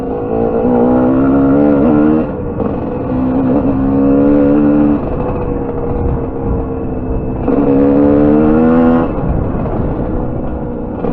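A TSE250R trail bike engine roars steadily close by while riding, rising and falling in pitch as the throttle opens and eases, loud and continuous with no talk.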